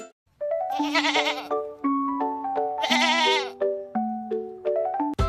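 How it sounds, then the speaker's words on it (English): A goat bleats twice in long, wavering cries, each standing out loudly over a cheerful sing-along children's tune with steady melodic notes underneath. "G for goat."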